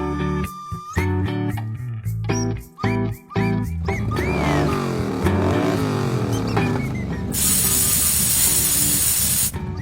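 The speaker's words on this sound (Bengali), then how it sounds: "এই গাড়িটা আর পাংচার হবার সময় পেল না" A cartoon car's tyre punctures, letting out a loud, sustained high hiss of escaping air after a stretch of revving engine noise and tooting.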